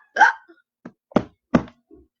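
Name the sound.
hiccup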